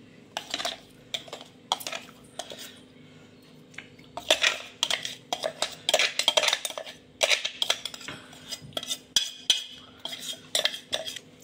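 Homemade mint spice powder being scraped from a jar into a bowl, with bursts of metal spoon scraping and clinking against steel, close and fairly quiet, separated by short pauses.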